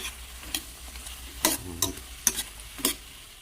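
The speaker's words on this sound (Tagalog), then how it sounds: "dahil nagisa na natin mabuti ang ating carrot at saka sayote" Carrots and chayote being stir-fried in a pan for chop suey, a low steady sizzle punctuated by several scraping, clattering stirs of a utensil against the pan.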